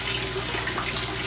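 Water flowing over a float valve in a home aquaponics system, a steady close rush and gurgle like a tap running into a basin, continuous and even with no talk.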